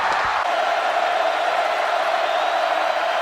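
A college football stadium crowd roars after an interception return for a touchdown, a dense, sustained, distant-sounding cheer that stays loud and steady throughout.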